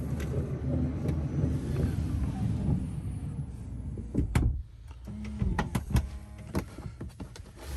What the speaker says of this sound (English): So inside, the button there to close the door.